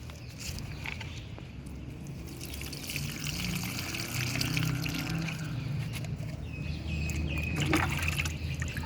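About half a mug of liquid pours onto a potted jasmine plant in a home garden, making a steady, close splashing trickle that lasts throughout.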